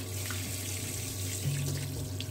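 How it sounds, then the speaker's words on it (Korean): Running tap water rinsing a large semi-dried sea bass in a kitchen sink, a steady close splashing flow throughout without talk. "그냥 흐르는 물에다가 살짝 이렇게 한 번만 씻으면 돼요"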